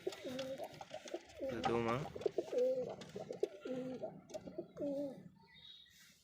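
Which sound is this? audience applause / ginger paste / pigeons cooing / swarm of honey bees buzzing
pigeons cooing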